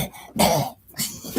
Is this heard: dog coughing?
yes